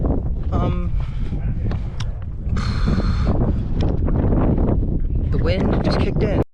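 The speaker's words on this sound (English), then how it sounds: "Okay, the wind is super strong right now." Strong wind roars across an open rocky landscape at Arches National Park, a loud, constant buffeting rumble on the microphone, with a person speaking over it.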